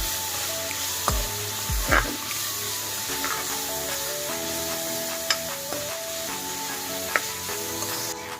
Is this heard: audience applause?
no